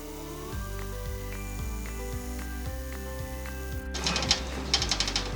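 An embroidery machine stitching a tack-down line on fabric in the hoop, a steady mechanical whir with a regular needle thump, ending in a brisk, rhythmic rattling of faster stitching.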